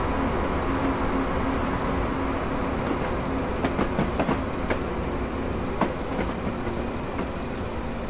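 Class 159 diesel multiple unit running on the Portsmouth Direct Line in Train Simulator 2016, a steady rumbling drone with rhythmic clickety-clack of wheels over rail joints and a few sharp ticks, with no talk.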